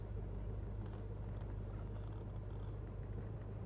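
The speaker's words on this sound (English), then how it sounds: "Waiting on this car to get by here." A passing car rumbles steadily near a 1971 Plymouth Road Runner on the road, a faint constant low drone with a hum and no clear peak.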